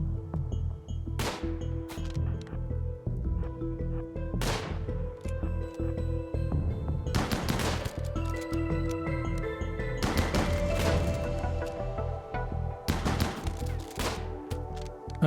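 Gunshots in the Rimworld video game: sharp, isolated shots spaced irregularly, some close together, ringing out over a steady bed of background music.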